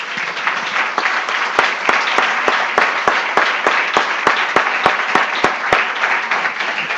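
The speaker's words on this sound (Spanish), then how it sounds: "Démosle un aplauso al Señor." A church congregation applauds steadily and loudly, a dense wash of many hands with a few sharper individual claps standing out in a regular rhythm throughout.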